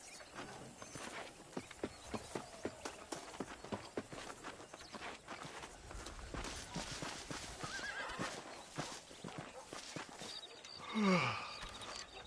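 Hooves clip-clop at a walk as a horse is ridden in Red Dead Redemption, followed near the end by a loud, close neigh with a falling whinny.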